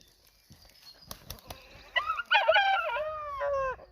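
A young cockerel crows close by on a farm, a harmonic, strained call rising and breaking over about two seconds, preceded by some wing flapping and scattered clucks.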